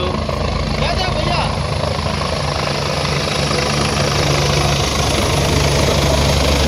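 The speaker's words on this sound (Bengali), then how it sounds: "যারা হেলিকপ্টারে যাবে তাদের জন্য হেলিকপ্টার আসছে।" A helicopter arriving to land at a helipad on the Kedarnath Yatra route roars with a loud, steady rotor and engine drone that holds throughout, with people talking underneath.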